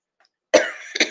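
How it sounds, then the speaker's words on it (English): Someone coughs twice in quick succession, close and fairly loud, in a short burst after a brief silence. "sorry, I'm just coughing out my lungs"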